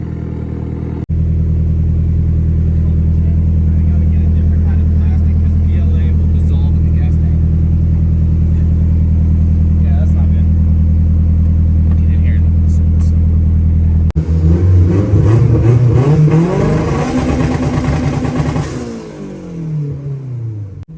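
A turbocharged, Honda-engined BMW E36 M3 drift car on its first test pulls, idling with a deep, loud drone before the engine revs up hard in rising surges. A whistle rises and falls as the revs climb, and people talk over it.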